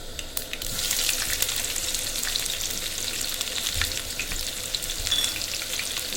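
Onions fry in hot oil for a broad bean curry, giving a loud, dense, continuous sizzle close at hand with a faint stirring texture.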